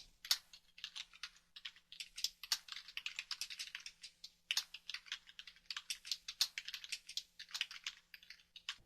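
Fingers type steadily on a computer keyboard while entering names in Revit MEP schedule dialogs. The clicks are soft and close, with a few louder key strikes, over a faint low hum and no talking.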